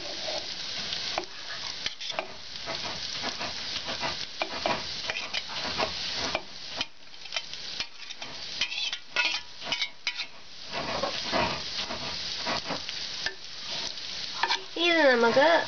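Thick ground coconut paste is worked into cooked aviyal vegetables in a pot, with a soft, close, continuous stirring and squelching, a faint sizzle underneath and occasional light scrapes of the spoon against the pan.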